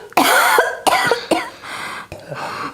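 A person with a fever and a lingering cough coughs hard in four close, harsh bursts, each followed by a short gasp, near and loud, with no talk over it.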